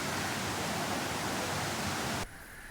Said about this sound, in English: here's the waterfall, and we're about to go down it